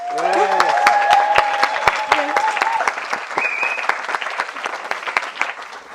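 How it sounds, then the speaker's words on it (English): Wedding guests give a loud round of applause for the girls, with many sharp claps in a dense patter and cheering voices on top at first, the clapping slowly thinning out. "Do another round of applause for the girls."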